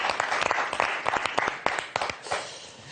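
A TV game show studio audience of the French letters-and-numbers quiz applauds, with dense, steady clapping at moderate distance that fills the full three seconds without pause.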